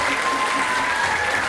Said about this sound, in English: give a round of applause for all these kids again,